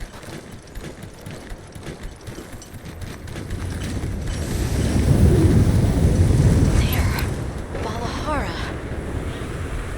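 Wind of a sand tide storm swells in the Monster Hunter Wilds game, a broad rushing roar that builds toward the middle and eases off, with whistling gusts late on.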